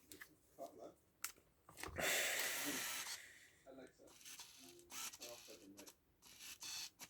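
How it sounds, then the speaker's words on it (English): A Ricoh GXR A12 28mm f2.5 lens unit, freshly repaired flex cable, whirs and clicks as its focus mechanism drives, faint short mechanical bursts in a quiet room with a voice talking nearby. "It's quite noisy on the focus."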